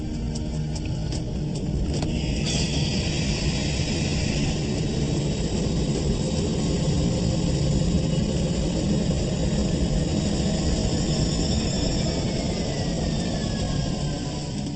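Jet engine running at reduced power during a water ingestion test, a steady, loud, continuous roar and whine with a faint falling tone, unbroken throughout.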